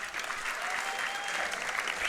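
Dense, steady applause from a crowd watching a grappling match at Grapple Kings 13, a continuous wash of clapping with no talk over it.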